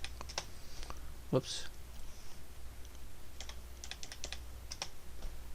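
Keys clack on a computer keyboard as a number is typed, a quick scatter of light clicks over a quiet room, with a single short spoken exclamation.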